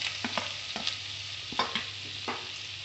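Garlic and ginger fry in a few tablespoons of hot oil in a pan, giving a soft, even sizzle with several sharp scraping strokes as the pieces are stirred, and nobody talks.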